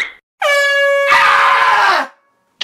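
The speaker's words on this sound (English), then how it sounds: "Why are you blowing that stupid air horn at 3 a.m?" A single long, loud air horn blast, steady and piercing for over a second and a half, then cutting off abruptly into silence.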